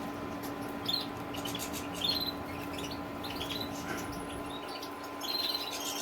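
Adult linnets with leg rings chirp and twitter in an aviary, several thin high calls scattered over a steady low hum, moderately close.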